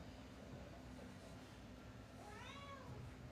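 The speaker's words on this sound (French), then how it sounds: "Je sais pas ce qu'elle veut, la chatte. Elle miaou, miaou, miaou." A female cat meows while looking for her kittens, one drawn-out rising-and-falling meow near the end, faint and somewhat distant under a steady rumbling background noise.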